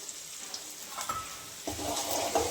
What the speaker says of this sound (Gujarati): હવે આપણે હલકે હાથે આને હલાવી લેશું જ્યાં સુધી બે ડુંગળી અને મરચાં મિક્સ ન થઈ જાય ત્યાં સુધી આપણે હલાવી લેશું